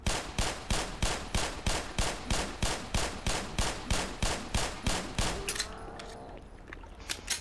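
Automatic gunfire in the video game Black Mesa, a rapid even burst of loud shots that runs for about five seconds and then stops, leaving fainter rumbling game effects behind with no talk.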